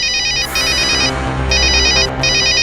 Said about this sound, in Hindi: देखूं तो किसी का मोबाइल फोन है। ये तो चल भी रहा है।